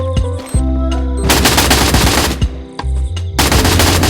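Rapid bursts of automatic gunfire from a first-person shooter game, loud and close, firing in several volleys with brief pauses between them; no one speaks.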